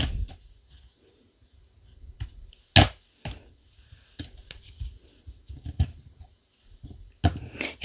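Scissors snip through cotton crochet yarn on a small rabbit keychain, giving sparse, sharp close clicks and short cuts scattered among quiet handling noises.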